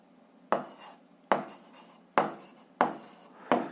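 A pen scratches across paper in five evenly spaced strokes as an algebra solution is written out by hand, close and fairly quiet, with no talking.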